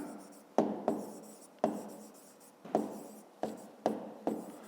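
A hand writes out a maths solution for a fifth-grade problem. The pen gives a series of close, distinct scratchy strokes, each starting with a sharp tap, at a steady irregular pace with quiet gaps between.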